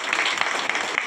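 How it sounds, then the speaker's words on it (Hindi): An audience applauding to honour sanitation workers at a hall gathering: soft, steady clapping from a crowd, faint and even, with no voices over it. "तालियों के गड़गड़ाहट के साथ उनका सम्मान करें"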